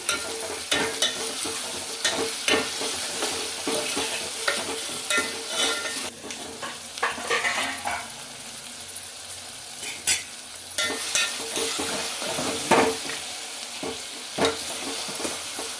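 Carrot and tomato pieces fry in a pan for sambar, a steady soft sizzle broken by repeated scraping stirs and light clinks of a spoon against the pan, close and without talk.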